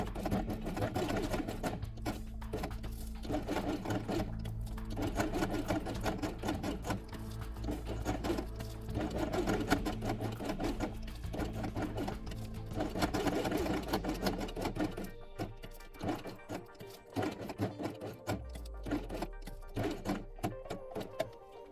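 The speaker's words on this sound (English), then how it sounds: "Then sew along them along the edge with blue thread." Sewing machine running along the edge of felt quiet-book pieces with blue thread, a close, continuous mechanical whir with fast needle ticking that slows and stutters near the end, no voices.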